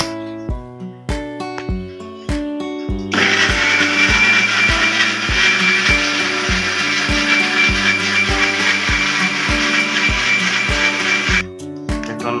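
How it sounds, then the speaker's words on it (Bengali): An electric blender whirs steadily for about eight seconds while blending green mango juice with a little water, loud and continuous over rhythmic background music that plays alone before and after. "এখন হালকা একটু পানি দিয়ে আমরা ব্লেন্ডার করবো, যাতে খুব সহজেই মেশ হয়ে যায়।"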